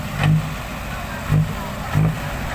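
Blue Hino dump truck diesel engine revving in three short throttle blips over a steady idle rumble, heard close and loud, with no speech.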